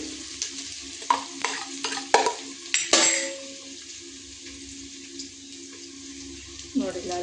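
Garlic paste going into a pan of frying onions for chicken dum biryani, with stirring clatter and sizzling up close, several sharp spoon scrapes early on, then a steady low hiss.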